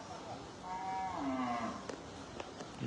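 A cow at a Qurbani Eid cattle market in Bangladesh lets out one long, low moo that swells and fades, followed by scattered thumps and faint crowd noise.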